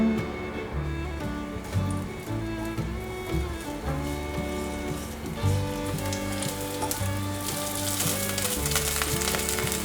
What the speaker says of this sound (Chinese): 锅内放入适量的橄榄油，把姜片放进来煸香。